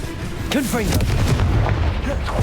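A Confringo spell blast in the Hogwarts Legacy video game, heard as a loud, full-bodied burst with booming low rumble and swooping magical tones over a continuous dense roar.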